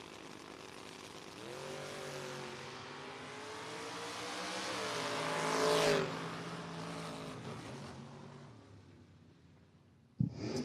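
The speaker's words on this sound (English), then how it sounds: "Next up, Rich Windler in the Mustang, 641." Drag racing cars, a Mustang and a Camaro, launch down the strip; a distant engine note climbs steadily for several seconds, swells, then fades away, with a brief sharp thump near the end.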